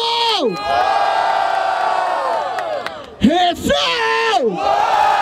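A crowd at a Brazilian freestyle rap battle final in Barueri roars and shouts, with loud whoops and yells rising and falling in swells throughout.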